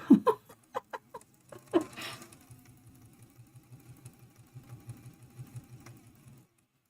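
A sewing machine with a dull needle stitches a Christmas tree quilt block, starting with a few sharp knocks and then settling into a quick, even run of soft thumping stitches that stops abruptly, close and moderately loud.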